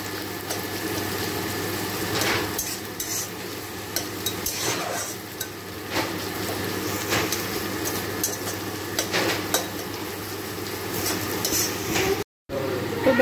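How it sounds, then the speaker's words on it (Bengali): Onion frying in a wok, stirred with a utensil: steady broadband sizzle with scattered scraping knocks throughout, ending in a brief dropout near the end, with no talking. "পেঁয়াজটা হালকা করে একটু ভেজে নিতে হবে আগে।"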